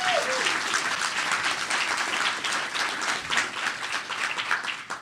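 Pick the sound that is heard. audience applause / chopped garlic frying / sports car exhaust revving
audience applause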